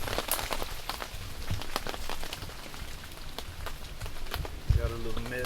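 Rain patters steadily on a tent during a storm at Huntsville State Park, a dense close hiss with irregular louder drops, and a voice briefly near the end.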